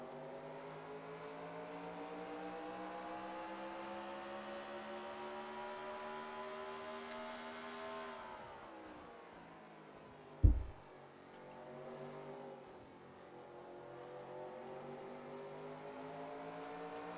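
An on-board race car engine at speed during a NXECS race at Chicago Motor Speedway, a loud, steady high-pitched drone whose pitch climbs and then drops as it lifts off, with a sharp thump midway before it builds again.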